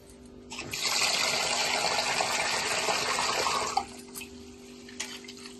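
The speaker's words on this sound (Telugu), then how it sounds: "మనం ముందుగా రైస్ నీట్గా కడుక్కుందాం" Rice being washed for pulihora, with running water gushing steadily for about three seconds, then a few small splashes and drips afterward; no talking.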